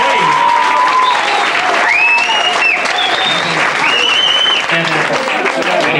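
Studio audience applause rolls on, loud and steady, while a melody with rising sustained notes plays over the clapping.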